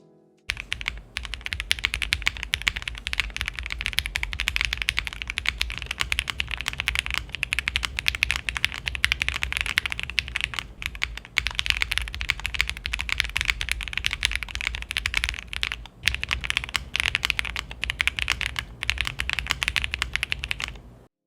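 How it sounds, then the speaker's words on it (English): Steady, rapid typing on a Graystudio Space 65 R3 mechanical keyboard fitted with a POM plate, giving dense, close, fairly deep and slightly muted keystrokes that run continuously for about twenty seconds with no talking. "For the sound, the POM plate had a relatively deep sound and it was a bit muted."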